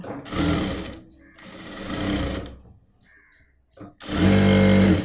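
Sewing machine stitching nightie fabric, running in three loud bursts of rapid mechanical whirring separated by short pauses.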